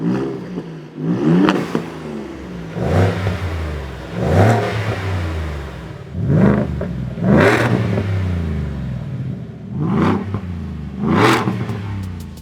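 Exhausts of a Ford F-150 with a supercharged Roush V8 and an EcoBoost Raptor with Corsa exhaust rev repeatedly. Six loud, sharp throttle blips rise and fall one after another, each with a rumbling exhaust tail.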